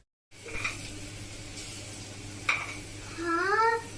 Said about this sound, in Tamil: தேவையான அளவுக்கு இஞ்சி பூண்டு பேஸ்ட் எடுத்துக்கிறோம். நல்லா இது வதங்கட்டும்